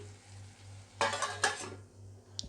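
Brinjal curry with tomatoes being stirred in a pan, giving two brief bursts of scraping and clattering, faint and close, with a light tap near the end.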